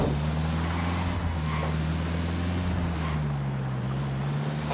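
A vehicle in Ghost Recon Wildlands drives with a steady droning engine hum that shifts slightly in pitch, accompanied by constant wind and road rush. There is no talking.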